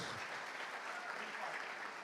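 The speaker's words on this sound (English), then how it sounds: "Big round of applause." Audience applause at an anniversary banquet and fundraiser night: a soft, distant, continuous wash of clapping from a large room, even in level throughout.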